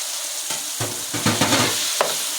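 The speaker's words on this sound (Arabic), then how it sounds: "ننزل بقى بالكبده بتاعتنا" Liver hits a hot pan with a little oil and sizzles loudly at close range, with bursts of spatula stirring scraping through the steady frying hiss.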